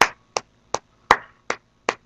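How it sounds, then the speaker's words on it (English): Six sharp, evenly spaced claps ring out alone over about two seconds, a thin stand-in for a round of applause rather than a crowd. "Let me get that round of applause real quick, Jen."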